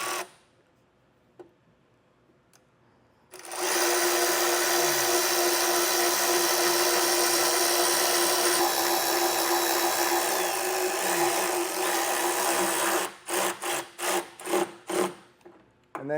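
A power drill whines steadily as it drives a self-tapping screw for a chassis ground while installing a wiring kit, running continuously for several seconds before stopping in a few short bursts.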